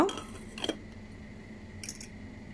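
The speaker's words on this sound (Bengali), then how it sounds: "এখন আমি চুলার উপরে হাঁড়িটা বসিয়ে দিলাম" A cooking pot for mutton paya (nihari) set down on a stove, giving a few faint, brief metallic clinks and clatters with quiet pauses between them.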